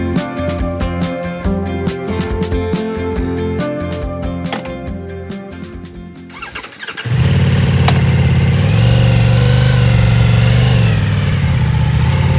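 A Ducati Multistrada V4 Rally motorcycle ridden on winding country roads on a warm afternoon. Music plays first, then a loud, steady engine drone with rushing wind takes over close by.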